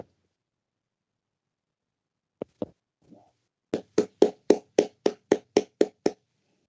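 Steady, evenly spaced hand claps from an audience honouring an ambassador at a young men's dialogue, about ten crisp near claps after a few scattered taps, with no talking.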